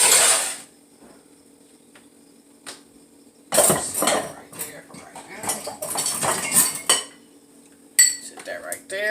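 Pots, pans and cutlery clatter in a home kitchen while baked macaroni and cheese is cooked, metallic clinks and scrapes in bursts between quiet gaps, close by, with a little talk.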